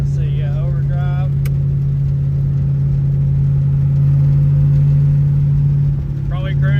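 A Ford Fairmont cruising in overdrive at around 65 mph, with a steady, droning engine hum and road rumble throughout while someone talks over it.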